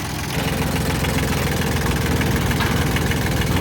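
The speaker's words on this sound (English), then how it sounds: "barely working hydraulics, don't fail me now" Hydraulics on a 1955 Chevy truck labor while the engine idles, a close, loud, rough mechanical rumble with a rapid knocking pulse that runs steadily after a brief quieter start.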